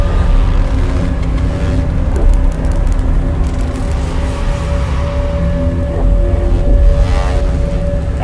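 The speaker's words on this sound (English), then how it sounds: "The sound you're hearing is a light black hole banging on space each time it gets close." Sonified gravitational waves from a light black hole falling into a very heavy one: a dense, loud, rumbling wash of noise with a faint steady tone running through it, unbroken throughout.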